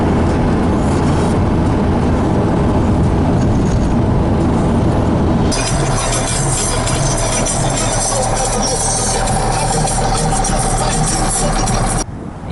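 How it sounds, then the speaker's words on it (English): Nighttime road traffic on a Russian highway, with trucks and cars roaring past close by in a loud, continuous rush that shifts character midway and drops briefly at the end. "the traffic is going on still even in the night time in Russia, at least on this road"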